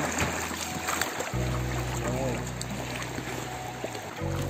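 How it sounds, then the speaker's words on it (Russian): Strong current on the Gauja river between Cēsis and Sigulda, heard from a small boat as a loud, steady rush and churn of water, with a low rumble running throughout and people talking over it. "Посмотрите, какое бурное течение."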